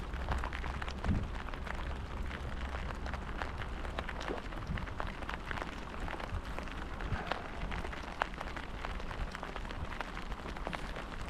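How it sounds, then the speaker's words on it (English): Steady rain patters and hisses across the water and surroundings during a winter snapper fishing session, a constant dense wash of drops with no talking. "Fishing in the rain."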